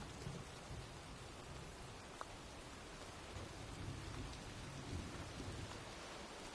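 A thunderstorm in the video game Heavy Rain, with steady rain falling and distant thunder rumbling low. The wash is faint and continuous, with a brief crackle partway through and no voices.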